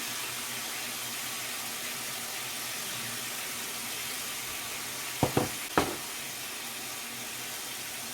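Salmon pieces sizzle steadily in a frying pan, a bright, even hiss throughout, broken near the end by two or three sharp clacks of a utensil against the pan. No one speaks.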